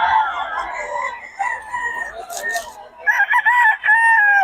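Fighting roosters crow repeatedly and loudly at close range at a cockfight in Nueva Ecija, several long crows overlapping one another, with some clucking mixed in.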